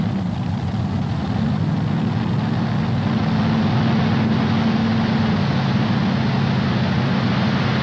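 At a 1987 Bowling Green tractor pull, the multi-engine Mean Mistreater, a Tim Engler build with two motors in tandem up front and three in the rear, runs with a loud, steady, low engine drone that stays unbroken throughout.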